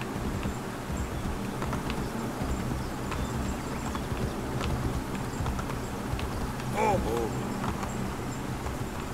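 Horse hooves clip-clop in a running rhythm in the video game Assassin's Creed Brotherhood, heard at moderate level alongside game ambience with a few brief chirps near the end.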